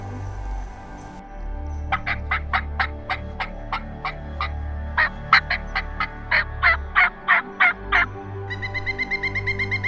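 A Merriam's wild turkey gobbles from a roost on a knob on Montana public land, a loud rapid series of gobbling notes rising and falling, with a faster trailing burst at the end and no voices.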